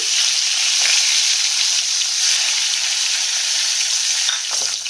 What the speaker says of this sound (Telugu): నీట్గా క్లీన్ చేసుకున్న ఎండు చేప ముక్కలను అయితే ఆయిల్లో వేసేసుకొని వేయించుకోవాలండి